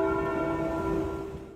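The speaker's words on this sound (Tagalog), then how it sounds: "Dahan-dahan na pinatunog ang mga kampana ng iba't ibang simbahang Katolika" Catholic church bells in Central Luzon, Philippines, tolling slowly to mark the death of Pope Francis: a sustained, ringing bell tone with long resonant overtones filling the clip, steady and fairly loud, with no voices.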